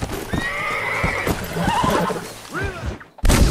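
A horse in Red Dead Redemption gives a loud whinny that rises and falls, with hoof clip-clops and game sounds around it, followed by a short gap and a burst of noise.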